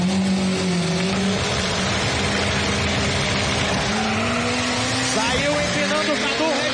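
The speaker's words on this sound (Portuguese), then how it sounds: "Saiu empinando o Cadu." A drag race car launches and accelerates hard at a drag racing event, loud and steady throughout, with rising engine pitch and a crowd or announcer voice mixed in.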